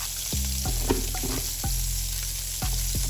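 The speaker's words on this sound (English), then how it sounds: "knowing that this is sizzling hot like this, you know that your pan is ready" Butter sizzles and crackles steadily in a hot pan, with a few sharp clinks of a utensil against the metal.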